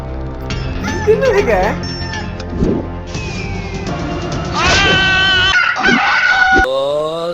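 A chicken clucking and a rooster crowing in a Tamil comedy police film, loud and close, with squawks and drawn-out crows mixed with music and other film sounds.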